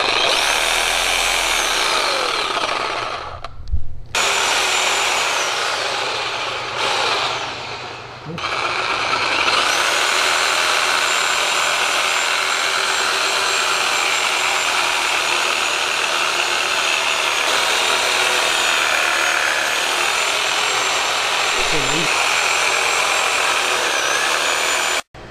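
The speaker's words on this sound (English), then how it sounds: "I'm gonna cut this off and then split it down the middle with my Sawzall." A Sawzall reciprocating saw cuts through a lamb carcass during butchering, a loud, harsh buzzing drone that stops briefly twice early on, then runs steadily close by with a faint dip near the end.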